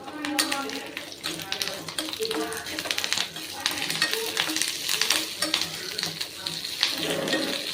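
Sautéing in a pan with a few torn karpooravalli leaves for thogayal, a busy sizzle with rapid tapping and scraping of a spatula throughout, a voice talking over it.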